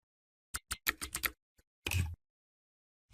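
Fingers tap a short verification code on a laptop keyboard: a quick run of crisp key clicks, a lone soft tap, then one longer clattering press, close and quiet against silence.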